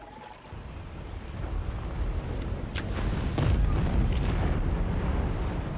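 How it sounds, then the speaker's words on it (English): An oil pile in Monster Hunter Wilds ignites into fire with a rising, rumbling whoosh and sharp crackling bursts, growing louder midway and then roaring steadily, with no talking. "if I shoot this, you can see that we ignite the oil pile, leaving fire all over the place"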